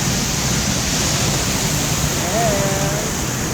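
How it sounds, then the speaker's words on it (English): Bluga Falls, a waterfall in Iceland, pours in a steady, dense rushing roar that fills the whole stretch without a break, with a faint brief voice-like tone rising partway through. "There's another waterfalls in Iceland. Bluga Falls."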